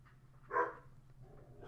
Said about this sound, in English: Can you guys hear the dog? He doesn't like the sound of my rolling chair.